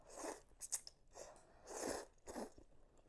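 Close-up slurping and eating of vegetarian ramen noodles with a hint of lemon, several wet sucking bursts separated by short pauses.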